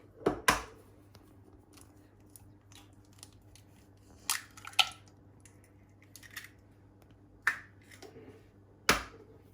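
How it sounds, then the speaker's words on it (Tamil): Eggs cracked into a bowl for chocolate sponge cake batter. Several sharp, close knocks and crackles come in small clusters with quiet gaps between them, over a faint low hum, with no speech. "நான் இங்கே முட்டையை உடைத்து இதனுள் போடுகின்றேன்."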